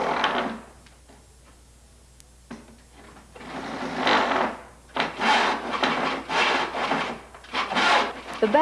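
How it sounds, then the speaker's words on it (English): A fine-toothed back saw cuts through wooden trim in smooth, even strokes, a rhythmic rasping that speeds into a steady series of close, loud pushes after a few slower starting strokes. "tip the saw so that the back is horizontal to the work and make smooth, even strokes"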